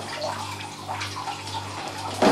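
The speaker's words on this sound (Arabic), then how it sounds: "هنا رايح نزيد قصة المغار تاع الخل هكذا" Vinegar poured into hot dishwashing water in a basin, a steady running, gurgling water sound with a louder splash near the end.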